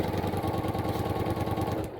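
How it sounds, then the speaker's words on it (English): A home sewing machine stitching quilt fabric runs at a steady, rapid mechanical rhythm, its motor hum and needle strokes repeating evenly and close before slowing at the very end. "slide it over to my sewing machine, and then sew before the line"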